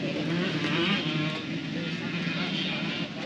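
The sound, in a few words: kids riding dirt bikes in the background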